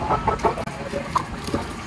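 Chickens clucking nearby on a farm with earthy ground, several short repeated clucks and calls over a busy outdoor background, with no talk.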